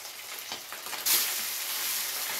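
Pieces of katla fish drop into hot oil, and a quiet crackle bursts into a loud, close, sustained sizzle that carries on evenly.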